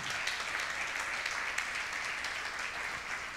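Applause from a church congregation at a Spanish-language faith crusade service, a steady dense wash of clapping that holds at an even level throughout, with no voices standing out.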